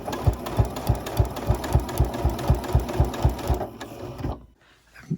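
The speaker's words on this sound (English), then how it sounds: "I'm going to do an understitch so that the collar will stay nice and firm along the neckline" A sewing machine understitches a collar's seam allowance along the neckline of a winter cape, giving a fast, even, rhythmic thumping that runs steadily for about four seconds and then stops, leaving near silence.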